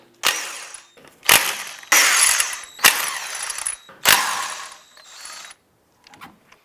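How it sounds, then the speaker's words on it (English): A 19mm socket ratchet removes lug nuts from a 2004-2009 Subaru Outback wheel, giving five loud close bursts of rapid ratcheting clicks separated by short pauses, then fainter clicks at the end. "a 19mm socket, we'll go ahead and remove the lug nuts."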